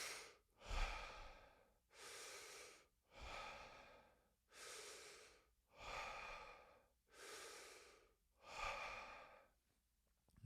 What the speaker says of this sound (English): focusing on breathing deeper, breathing continuously with no gaps, and breathing a little bit faster than you normally would